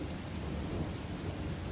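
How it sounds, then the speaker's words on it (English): Steady rain with a low, continuous rumble of thunder underneath, heard from indoors at a modest distance. "a thunderstorm."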